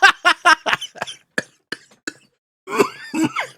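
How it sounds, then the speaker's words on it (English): A person coughs repeatedly in a close, loud burst of short hacks, then pauses and lets out a few more rougher coughs with a wheezy throat-clearing edge. "You see this? See the coughing?"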